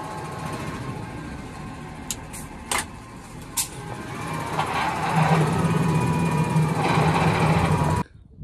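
A tractor engine idles and hums steadily while lifting a 40-foot mobile shipping container on its rear link arms, with a few sharp clanks early on and the engine note swelling louder toward the end before cutting off.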